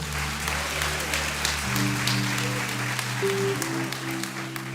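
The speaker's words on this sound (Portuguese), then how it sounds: "Pode aplaudir o Senhor." Congregation applauding during a church sermon, a dense wash of clapping over a sustained organ or keyboard chord that shifts pitch partway through, continuous and fairly loud throughout.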